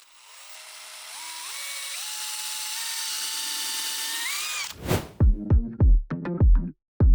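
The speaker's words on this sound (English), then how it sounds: "let's start drilling some holes" A power drill drills holes through two boards clamped together: a rising motor whine that steps up in pitch, then a series of short, sharp bursts as the bit bites through the wood, close and loud.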